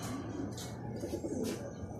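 Racing pigeons coo repeatedly at close range in a loft after returning from a training flight, soft throaty rolling calls overlapping steadily throughout with no talking.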